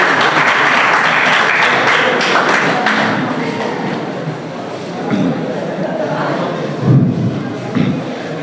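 A crowd at an Urdu poetry event in Kendrapara claps warmly as a humorous poet takes the stage, the applause fading gradually while a voice speaks over it and a few thumps sound near the end.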